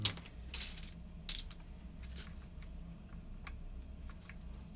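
Crisp mechanical keyboard key clicks on a brass plate with Nixie switches tap out in irregular bursts, close and fairly quiet, with no voices.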